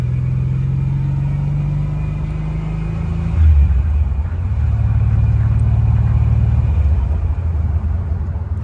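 Porsche 911 Strosek kit car idles nearby with a steady low rumble that deepens and grows louder midway, holding a throbbing tone afterward.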